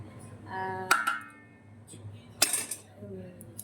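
The back of a metal ladle presses rice down in a pot of chicken biryani, giving a few sharp clinks and scrapes of metal on the pot with quieter rustling between them. A voice talks throughout.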